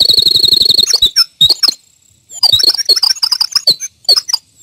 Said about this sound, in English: This is the winter wren.